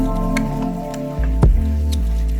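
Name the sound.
stirring Korean gochujang chili paste into sauce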